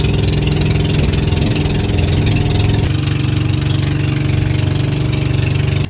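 A boat engine drones steadily and loudly throughout, a constant mid-pitched hum with a slight shift in tone partway through.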